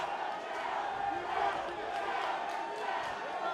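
Crowd noise from the audience at a Steelfist Fight Night 107 MMA bout, a steady wash of cheering and shouting at moderate level, continuous throughout.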